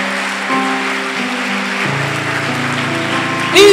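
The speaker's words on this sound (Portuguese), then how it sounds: "Aplauda o Senhor o mais forte que você pode para Jesus." Church congregation applauding, a dense steady patter of clapping that is fairly loud, mixed with sustained organ-like musical tones underneath.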